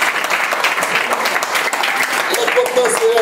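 Audience applause for Mme Seya at a Haitian gathering, a dense steady clapping from a crowd held throughout at close range, with a voice speaking over it.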